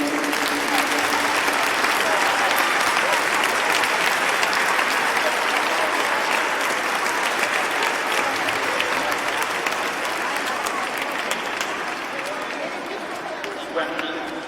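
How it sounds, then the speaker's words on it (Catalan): Steady, loud applause from a large audience at a cantata performance fills the whole stretch, a dense wash of clapping that fades slightly toward the end. "voldria que li fes un fort aplaudiment"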